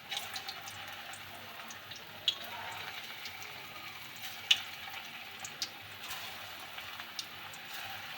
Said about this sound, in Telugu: ఇలా ఆయిల్ ఫ్రై అయిన తర్వాత సిమ్లో పెట్టుకుంటే అన్నీ ఈవెన్గా వేగుతాయి